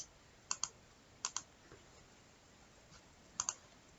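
Quick clicks from tapping through The Sims Mobile, three separate pairs of short, crisp taps spaced apart over a quiet background.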